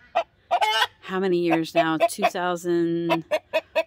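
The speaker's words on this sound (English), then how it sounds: "that's not typical rooster. That's hen sounds." Several short clucking calls from a hen, with longer drawn-out squawks in the middle, close by. A person briefly speaks near the start.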